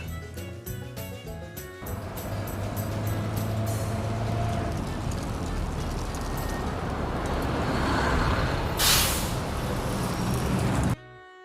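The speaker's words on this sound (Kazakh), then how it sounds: "Автобус." A bus engine rumbles steadily at moderate volume after a short musical lead-in, with a brief horn-like toot near the end before it stops abruptly.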